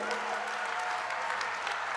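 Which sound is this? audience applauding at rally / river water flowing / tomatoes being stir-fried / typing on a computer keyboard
audience applauding at rally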